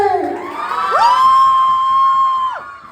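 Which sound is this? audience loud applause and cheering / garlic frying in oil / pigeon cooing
audience loud applause and cheering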